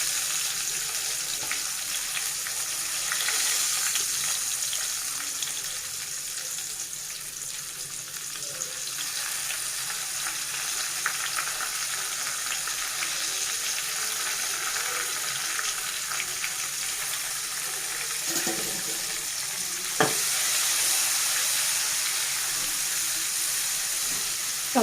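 Tomatoes cooking in a pan for Telugu-style pepper rasam give off a steady, soft hiss of gentle sizzling that carries evenly throughout, with a brief clink near the end and no talking.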